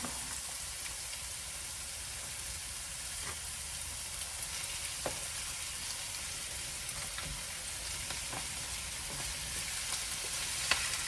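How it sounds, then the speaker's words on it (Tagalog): Pork mince and onion frying in a pan give a steady, soft sizzle with a faint crackle throughout, quiet and continuous with no talking. "once na maluto na yung onion ng kaunti, doon natin idadagdag yung mince"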